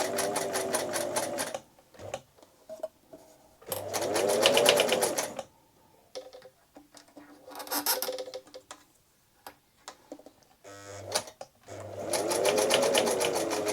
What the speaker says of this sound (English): When you get a bit of speed up, you hear the clonking.